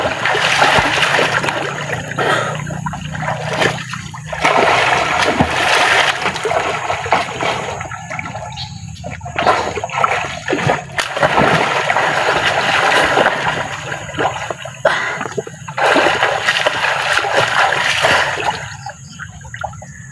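Water splashes and sloshes in irregular bursts as people bathe in a pool, loud and close throughout, with brief lulls between splashes.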